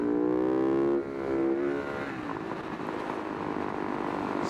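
A Husaberg FS570 supermoto motorcycle accelerates, its engine note rising steadily, dipping at a gear change and then droning on at a strong, close, continuous level with wind noise.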